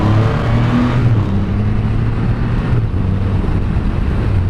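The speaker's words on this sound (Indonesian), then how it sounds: "kita akan coba sedikit gas ya. 3000 rpm, gigi 1." A Triumph Rocket 3 GT motorcycle engine held near 3000 rpm in first gear in rain mode drones steadily with a smooth, even hum. Wind roars heavily over the microphone throughout.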